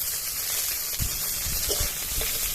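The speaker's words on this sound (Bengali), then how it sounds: "এবার এর মধ্যে ভেজে রাখা চিংড়ি মাছ দিয়ে দেবো" Fried prawns sizzling loudly in hot oil in a pan for a rural-style prawn ghonto, a steady broadband crackle with a few bursts of stirring.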